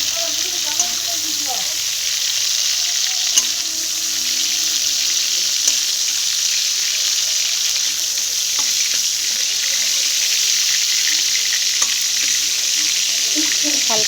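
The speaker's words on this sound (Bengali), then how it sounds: "হালকা করে ভেজে তুলে নিলাম চিংড়ি মাছটাকে" Shrimp fry lightly in hot oil for a taro-stolon curry, giving an even, continuous sizzle with occasional soft clinks of stirring close by.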